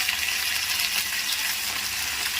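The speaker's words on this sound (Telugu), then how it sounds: "గోంగూర మంచిగా ఫ్రై అయిపోవాలన్నమాట." Steady, soft sizzling of gongura leaves frying in oil in a pan, an even hiss with no breaks and no talking.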